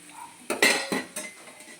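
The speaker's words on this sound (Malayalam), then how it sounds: "അപ്പോൾ നമുക്ക് സവാള ഇട്ട് കൊടുക്കാം കേട്ടോ. ഒന്ന് ബ്രൗൺ കളറാണ് വരെ വഴറ്റാൻ പോവാം." Onions being sautéed until brown for Sunday ghee rice, with a few clanking stirs of a utensil against the pan over a soft background sizzle, close and fairly loud with no talking.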